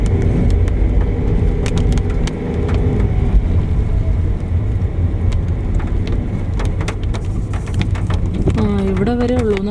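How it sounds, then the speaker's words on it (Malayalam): Several vehicles drive ahead on a forest road near Kuttampuzha and Pooyamkutty in Kerala, giving a steady, loud broadband rumble with a brief tonal whine near the end. "ഫ്രണ്ടിൽ വണ്ടികളൊക്കെ പോകുന്നുണ്ട്."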